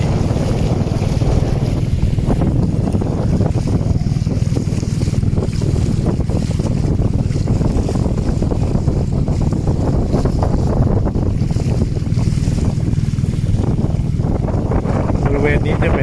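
A longtail boat crosses Songkhla Lake, its engine droning steadily at close range beneath heavy wind buffeting the microphone, with water washing alongside throughout.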